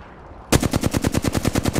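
Rapid automatic gunfire in Apex Legends bursts in abruptly after a half-second lull, a loud, evenly spaced stream of about a dozen shots.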